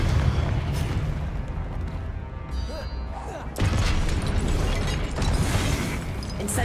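Fiery Confringo blasting spell bursting in the Hogwarts Legacy game amid a forest battle, a continuous roaring boom with a louder surge midway, dense layered combat noise throughout.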